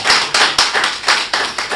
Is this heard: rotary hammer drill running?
no